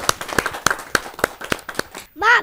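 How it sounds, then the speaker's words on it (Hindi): A run of sharp, evenly spaced claps rings out at a Hindi kavi sammelan as a young girl poet is welcomed, with a brief voice following the clapping at the end. "जरा जोरदार ताली बजा"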